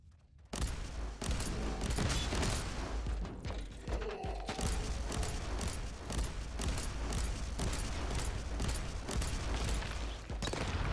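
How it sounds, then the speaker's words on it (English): Bolter gunfire with exploding rounds in the Warhammer 40K: Inquisitor - Martyr video game: a dense, continuous barrage of rapid shots and booming impacts, loud and sustained throughout with no pauses. "If you've got things hiding behind cover, then the exploding rounds definitely do help."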